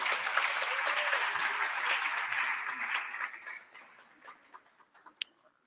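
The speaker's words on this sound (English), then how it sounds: "Can we just have another round of applause?" Audience applause at a memorial lecture, a full round of clapping from a large hall that gradually thins into scattered individual claps before stopping.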